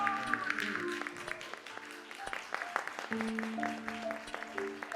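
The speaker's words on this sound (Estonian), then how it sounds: "Aplaus!" An audience at a magic show claps for a volunteer, steady moderate applause heard under indoor room sound and light voices.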